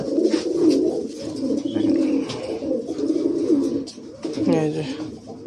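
A pair of Black Beauty pigeons cooing up close, low rolling coos repeating throughout, while someone talks over them.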